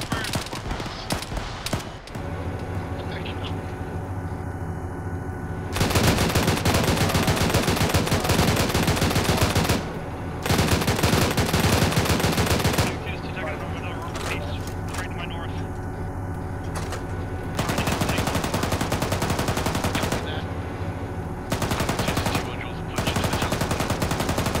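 Heavy automatic gunfire from an aircraft gun run in a military video game, aimed at a main battle tank, comes in long, loud, sustained bursts separated by brief gaps, with voices talking over the action.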